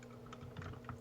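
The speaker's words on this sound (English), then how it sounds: "I hear somebody typing." Faint computer keyboard typing heard in the background of a podcast-style show, a quick run of soft, irregular key clicks at low volume.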